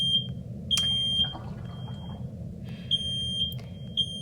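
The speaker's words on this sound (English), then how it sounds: "And the fire alarm is going off." A fire alarm goes off during a Dandy's World game, sounding repeated shrill electronic beeps at a steady rhythm, with a few sharp clicks and a faint wash of background noise and no talking.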